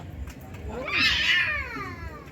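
A cat indoors gives a single drawn-out, rising and falling meow in the middle, heard over low background room noise.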